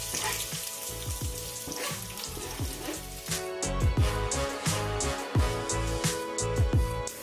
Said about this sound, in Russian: Берем лук и забрасываем в кастрюльку